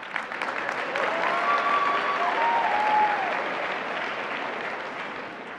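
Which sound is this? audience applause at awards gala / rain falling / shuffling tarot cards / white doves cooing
audience applause at awards gala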